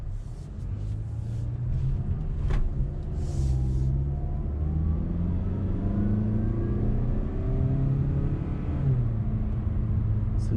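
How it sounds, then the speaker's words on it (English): A 2019 Mazda CX-5 Grand Touring with a 2.5-liter four-cylinder engine accelerates from inside the cabin, a steady rising engine hum and road rumble through several upshifts, fairly quiet and without talk. "Nice little good first acceleration on there."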